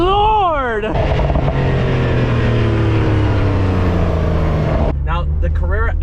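Porsche 911 Carrera S of the 992 generation launching hard under launch control, a loud sustained engine roar climbing steadily through the revs after a brief rising rev, with a person's voice exclaiming over the start and end.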